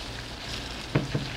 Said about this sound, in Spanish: Estamos friendo las papitas